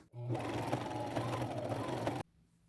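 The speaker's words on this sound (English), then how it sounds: "Now I'm just going to sew right across here with a zigzag stitch like I did the ruffles." A sewing machine running a zigzag stitch across fabric for about two seconds, a steady, close mechanical whir with a rhythmic needle beat that starts and stops abruptly.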